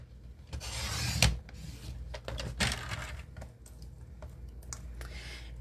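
Paper strip for a card being trimmed on a cutter, heard as close, quiet bursts of scraping and rasping slides with a few sharp clicks, no talking over it.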